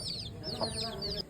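A fighting-breed hen with five newly hatched chicks clucks softly, with faint high peeping running throughout a brief moment close by.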